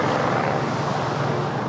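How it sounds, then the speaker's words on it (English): A helicopter circles overhead during a body retrieval at Bondi Beach, its engine and rotors a steady, broadband drone at moderate distance for the short span, with no voices. "We've got the helicopter circling."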